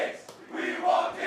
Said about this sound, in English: Crowd going and making it being a huge factor so far this game